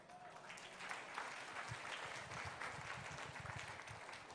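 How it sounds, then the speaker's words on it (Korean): Lukewarm applause from business members at a corporate vision event in the Philippines, a thin, steady patter of clapping at moderate distance that never swells. "우리 사업자분들의 박수가 그렇게 크게 안 나오잖아요"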